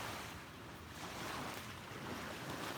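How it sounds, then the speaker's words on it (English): Ocean waves wash onto a beach at sunrise in a steady, soft roar mixed with wind buffeting the microphone, fairly faint and continuous with no talking. "the sounds of these waves"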